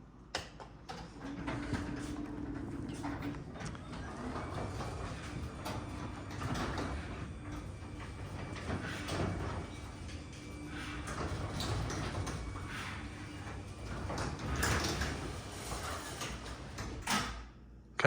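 A garage door on nylon rollers rumbles and rolls steadily shut for several seconds, with low mechanical grinding and occasional clicks, ending in a soft thud.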